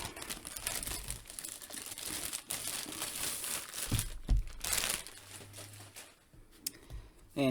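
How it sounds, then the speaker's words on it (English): Plastic wrapping around a boxed Brian Myers wrestling figure crinkles steadily up close, rustling and crackling almost without pause. "Besides the mailer, they do include this plastic wrapping."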